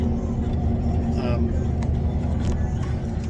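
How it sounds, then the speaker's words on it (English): A low, steady engine rumble inside a moving FRS ferry company bus running from the ferry dock to Algeciras, with a person talking over the constant drone. "The bus we're on is from the same ferry company, FRS."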